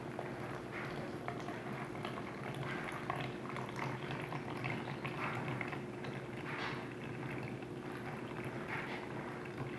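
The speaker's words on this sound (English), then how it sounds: "so we just pour the water in through the coffee, let it filter." Hot water is poured through coffee grounds in a filter, giving a steady bubbling, trickling liquid sound at close range that runs continuously with a constant low hum beneath, and no talking.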